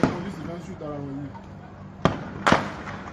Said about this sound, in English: Those are live bullets.